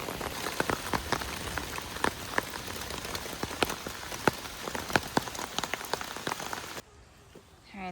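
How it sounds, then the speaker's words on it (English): Heavy thunderstorm rain pours steadily onto camping tents on the Appalachian Trail, a dense close hiss dotted with sharp individual drop impacts, cutting off abruptly near the end. "We brought Florida thunderstorms with us. Downpour, but the kids are dry."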